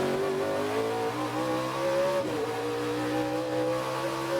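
Onboard a Trans Am race car at Portland, the engine holds a loud, steady high-revving drone as it accelerates out of a corner toward turn 10, with a brief dip and rising pitch near the middle.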